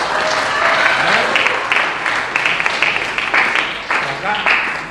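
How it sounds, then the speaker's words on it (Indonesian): Audience at a school assembly claps in a loud, sustained burst of applause that ripples unevenly across the hall, with voices murmuring underneath. "Tepuk tangan untuk kamu semua ini."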